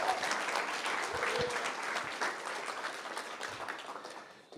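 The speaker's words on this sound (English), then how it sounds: "round of applause for Micah" An audience at a congregational gathering on unhoused neighbors applauds steadily for several seconds, a dense, even patter of many hands that fades slightly toward the end.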